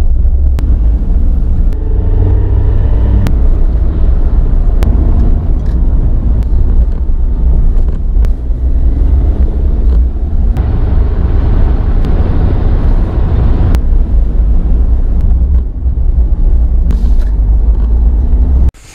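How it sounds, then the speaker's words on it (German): A car in motion with steady low engine and road rumble filling the whole stretch, loud and continuous, with occasional faint clicks and bumps over it and no talking. "Jetzt fahren wir Auto."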